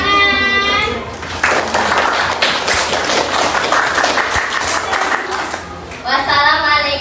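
Classroom students clap together in a lively burst of several seconds, loud and close, with children's voices heard just before and right after the applause.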